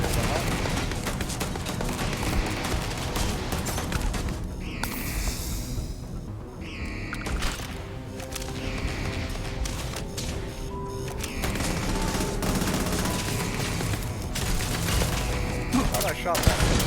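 Turret gunfire in the space game Starfield, dense repeated shots and crashes rolling continuously under a busy game mix, with occasional talk.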